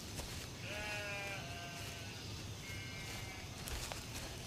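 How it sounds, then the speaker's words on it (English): A sheep bleats once in a drawn-out, wavering call, then gives a shorter second bleat, set against a steady outdoor hiss and rustle. "These farmers were now able to grow a breed of sheep"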